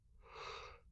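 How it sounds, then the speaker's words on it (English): A single person's yawn at bedtime, a soft, breathy, drawn-out exhale that rises and falls over about a second, quiet and close with no other sound. "Here's a yawn."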